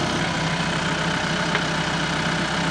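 A tractor's engine idles steadily on a cattle farm, a loud continuous rumble close by with no breaks, among cattle feeding.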